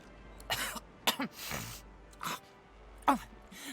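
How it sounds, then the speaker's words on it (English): A character in the video game Divinity Original Sin 2 retches and sneezes in a few short, harsh, close bursts of coughing, gagging and an expelled sneeze, separated by brief pauses. "Melody explodes in a fit of retching that racks her body. At last, she sneezes"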